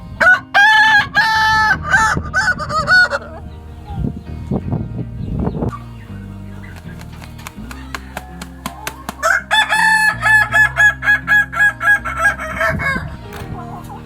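A Kukuak Balenggek rooster from West Sumatra crows loudly and irregularly in long, uneven strings of notes, with clucking between the bursts.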